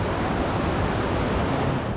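A river rushing down a canyon from the páramo near hot springs, a steady dense roar of flowing water, close and continuous with no pauses.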